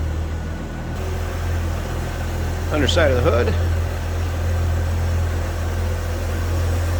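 A 1965 Chevrolet C10 with its 230 inline six engine idles under an open hood, giving a steady, smooth low drone that stays even throughout while someone speaks briefly over it.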